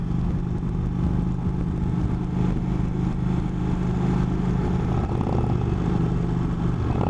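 An Indian Chief Vintage motorcycle being ridden, with a steady, loud engine drone and road and wind rumble running continuously throughout.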